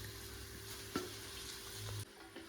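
Chicken frying in masala in a pan, giving a quiet continuous sizzle with a single sharp clink partway through and a brief stirring scrape, close and without talk.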